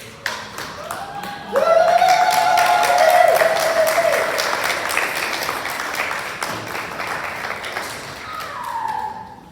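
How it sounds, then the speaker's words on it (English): Graduates at a graduation recognition ceremony stand and applaud their community leaders, a sustained burst of clapping that swells loudly then gradually thins, with a voice speaking over it and some sustained tones in the background. "I invite all the graduates to stand and applaud your community leaders for doing this"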